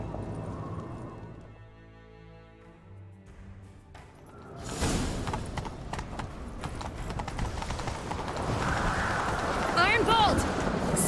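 Hoofbeats of a horse galloping in The Witcher 3 come in after a lull, rushing and rhythmic up close, mixed with game music and whooshing movement while characters speak over it.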